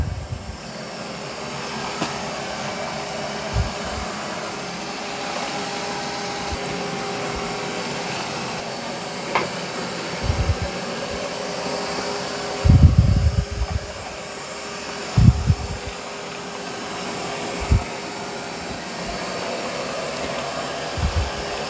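A Roborock Q5 Pro or Narwal Freo X Plus robot vacuum, mop pad raised, runs on carpet at increased suction, giving a steady close whirring drone with a few brief louder bumps and rattles.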